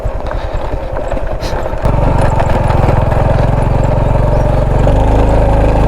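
A motorcycle idles on a rough road, its low, throbbing engine pulse loud and close, steadying into a deeper, stronger chug partway through.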